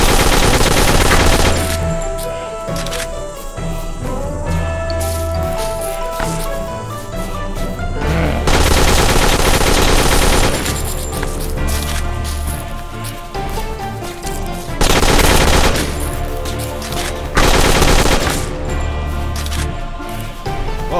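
Loud, repeated gunfire bursts from the farm-defense game Dead Acres, a shotgun blasting over dense, busy game music and effects, with several heavy volleys spread through the stretch.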